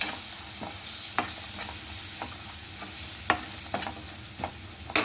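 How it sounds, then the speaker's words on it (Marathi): Cashews stirred and fried in hot oil in a pan for kaju batata egg curry, with chicken masala spices added: a steady sizzle under repeated sharp scraping clicks of the spoon, close and fairly loud, no talking. "त्याच्यामध्ये ना आपण हे काजू टाकूया. काजू असे फिरवून घ्यायचे."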